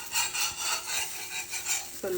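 A spatula scrapes across a hot pan while a protein dosa is turned, giving a series of rhythmic rasping strokes, fairly close and clear, with no talking over them.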